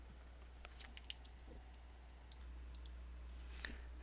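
A few light mouse clicks in a quiet room, made while running Java code in an editor: sparse, soft, close ticks over a low steady hum.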